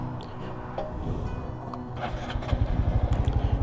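Honda Trail 125 motorcycle engine labouring to pull a trailer on a sunny ride, a steady mid-pitched drone that builds into rhythmic pulsing revs near the end, fairly close and without speech.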